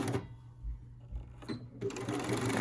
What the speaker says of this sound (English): I'm just going to continue sewing all the way down to the very, very end of this tie.